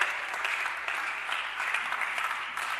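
Church congregation applauding during a worship service, a steady wash of clapping that holds evenly from start to finish.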